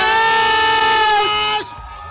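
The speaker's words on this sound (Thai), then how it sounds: "เปิดมาก็กรี๊ดแล้วฮะ" A concert crowd screams as a legendary Thai rock band takes the stage at the Guitar Mag Awards. The shrill, sustained screaming is loud and close, then drops away sharply near the end.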